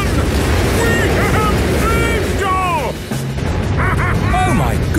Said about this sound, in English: Grumpy Rabbit's rocket has really taken off